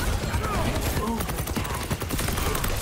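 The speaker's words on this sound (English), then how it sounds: "Fire at will!" Video game gunfire rattles in dense, continuous bursts, loud and close, with rapid overlapping shots filling the whole stretch and a voice faintly present beneath.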